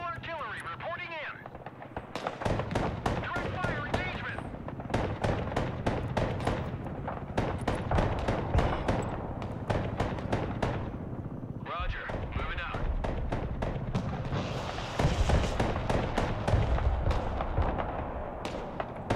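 Mobile artillery firing in the video game Broken Arrow, a tank battle: rapid, repeated booms and cracking blasts rolling on for the whole stretch, close and dense, under frequent spoken voices.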